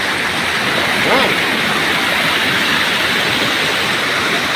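Loud, steady roar of rushing floodwater in a mountain river during heavy rain, a dense continuous wash of churning water with no pauses.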